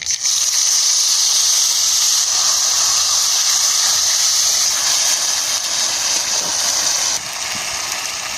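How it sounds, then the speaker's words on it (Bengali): Spice paste for a prawn curry sizzling in hot oil in a pan, a loud continuous bright hiss that holds steady close up, dipping slightly near the end, no talking. "কড়ার মধ্যে তেল দিয়ে দেবো, ফোড়ন করব। এখানে সব বাটা মাখানা আছে দিয়ে দেবো"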